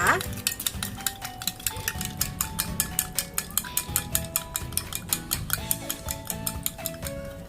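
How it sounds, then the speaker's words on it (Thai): A spoon stirring sugar, cocoa and mint mix into 100 ml of hot water in a glass, a quick steady rhythm of bright metallic clinks against the side, close and continuous, with a soft background tone. "น้ำร้อนที่ 100 ml แล้วก็คนให้ส่วนผสมทั้งหมดละลายนะคะ"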